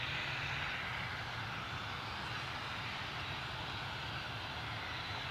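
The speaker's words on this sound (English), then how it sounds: "A Beach King Air 250 from Teesside" A Beechcraft King Air 250 turboprop flies over near Newcastle Airport, a steady, broad engine drone with a high whine, fairly loud and close, holding constant throughout with no voices.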